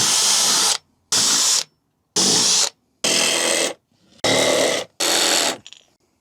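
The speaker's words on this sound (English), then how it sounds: "I'll start by drilling the 4 corners," A power drill boring holes into a camper van panel, six short loud bursts of whirring and grinding separated by brief pauses, close and alone.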